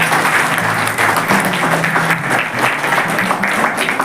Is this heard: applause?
yes